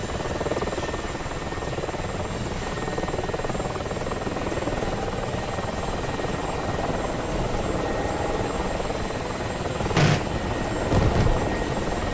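Helicopters hovering in the DCS World flight game, a continuous loud rotor drone with steady chopping thrum throughout, joined near the end by a couple of short thumping bursts, no voices.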